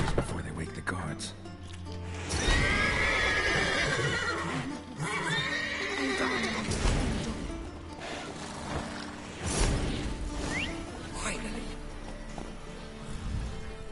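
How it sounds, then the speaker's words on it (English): Horses in The Witcher 3 give a neigh and snorts amid hoof clops and stable rustling, with someone talking over much of it against a constant game ambience. "Gotta calm all the horses before they wake the guards."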